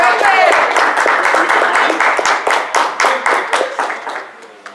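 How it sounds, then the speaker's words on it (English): An audience at a Super Password game show event applauds for Finnegan, loud clapping that is dense at first, then breaks into separate claps and tapers off. "Please give Finnegan a round of applause"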